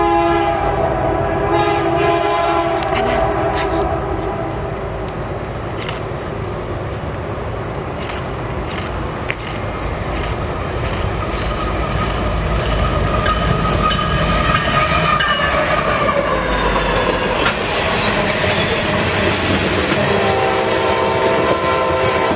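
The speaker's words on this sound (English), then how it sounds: "The first train of the day was CSX K602 with a nice foreign power lash-up." CSX freight K602, led by a foreign-power locomotive lash-up on the Mohawk Subdivision at Amsterdam, New York, rolls past close by with steady rail rumble and clickety-clack, punctuated by repeated horn blasts.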